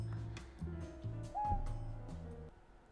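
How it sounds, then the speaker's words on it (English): An owl hoots softly in a few low, rounded calls, faint and somewhat distant, against a quiet background with no speech. "Owl."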